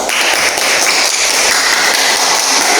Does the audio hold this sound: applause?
yes